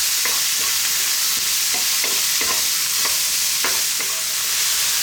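Chopped garlic fries gently in a pan over low heat, giving a soft, continuous sizzle with faint scattered crackles and occasional stirring clicks, steady and close, with no talking.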